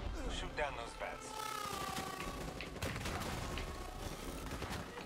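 Gunfire in Call of Duty Black Ops 3 as a player shoots down bats, a dense continuous barrage of game shots and explosions layered with music and effects, steady and loud throughout.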